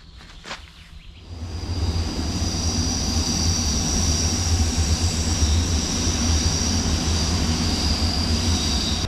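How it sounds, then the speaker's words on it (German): An S-Bahn commuter train rumbles past on an overhead track in Berlin, close by, a loud sustained roar with a faint metallic whine, starting after a brief quieter moment. "Ab und zu stört die S-Bahn mal."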